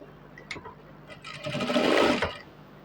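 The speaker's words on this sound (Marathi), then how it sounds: "नंतरच समोर शिलाई चालू करायची" A sewing machine stitches fabric for a shirt, starting with a few quiet clicks and then running in one continuous whirring burst that swells louder and stops, heard close with no talk.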